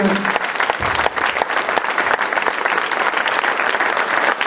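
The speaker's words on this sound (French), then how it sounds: "Voilà, je crois qu'on peut applaudir très fort Monsieur Laurent Schmitt." Loud, sustained audience applause filling a hall at an evening ceremony in Anduze, steady dense clapping from a large crowd for the whole stretch.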